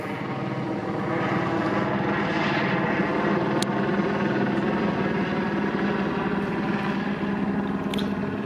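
A helicopter roars steadily overhead, its loud, dense rotor and engine noise filling the whole stretch without a break.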